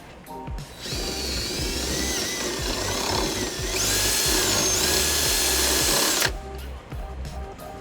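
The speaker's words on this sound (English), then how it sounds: "We're going to drill a 1/2-inch hole here" A drill boring a half-inch hole through the trunk pan of a 2005 Nissan Altima during a trailer hitch install, whining steadily for about five seconds with rising pitch under load, then stopping, close and loud.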